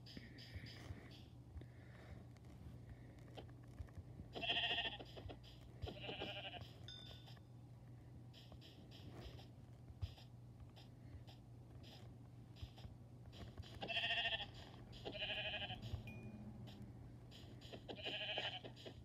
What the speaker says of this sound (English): there are a lot of sheep